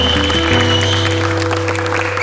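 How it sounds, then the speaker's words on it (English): Film crew members applaud at a picture wrap for makeup artist Greg Cannom on a film set, brisk clapping over a loud steady low hum, close and continuous. "another round of applause for Greg Cannom"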